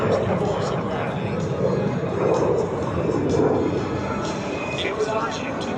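Lockheed T-33 Shooting Star jet flying an airshow pass at Hampton Roads, a continuous rushing engine roar that swells and recedes slightly, heard under a commentator's voice over the public address.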